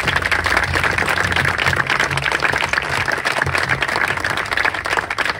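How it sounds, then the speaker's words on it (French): An outdoor summer festival launch crowd in Roquebrune-Cap-Martin claps steadily, a dense, continuous wash of applause sustained throughout without pause, with some low background murmur underneath. "on peut les applaudir"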